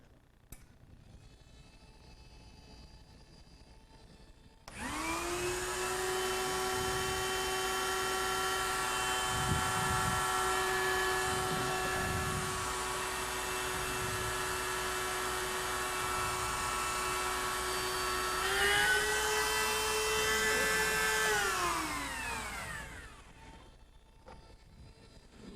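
A rose engine lathe powers up and runs with a loud, steady motor whine and a strong tonal hum, rising in pitch near the end before spinning down and stopping.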